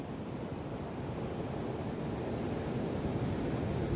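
Sea waves wash in with a steady, fairly loud roar and some wind noise, with no voices.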